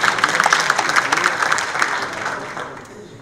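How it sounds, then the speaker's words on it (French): Scattered applause from an audience at a doctoral-admissions forum, a burst of fairly close clapping that gradually thins and fades out over a few seconds. "Quelques applaudissements seraient les bienvenus"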